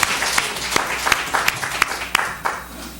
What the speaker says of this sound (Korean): 우리 박수로 하나님께 영광 올려드립니다.